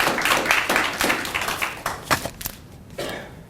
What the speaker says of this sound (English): Please give a round of applause to Senator Jensen.